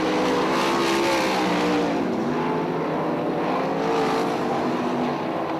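360 sprint cars race wheel to wheel at Crystal Motor Speedway, their engines a loud, continuous howl with pitch rising and falling as they power through the turns, with no voices.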